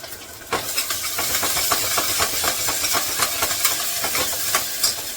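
Ginger garlic paste sizzles steadily in a hot pan, a dense close hiss with small crackling pops that jumps up suddenly after a quieter first half-second and continues alone without talk.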